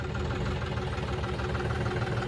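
A Mahindra 585 tractor engine runs near a river, a steady low chugging idle with a rough, knocking pulse, fairly quiet and unbroken.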